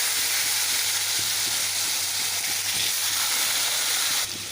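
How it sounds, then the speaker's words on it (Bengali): Vegetables fry in oil left from fried prawns in a pan, giving a loud continuous sizzle with occasional stirring knocks and crackles, close and unbroken. "এখন আমি এই তেলটার মধ্যেই আমি এখন বাকি সবজিগুলো দিয়ে দিচ্ছি।"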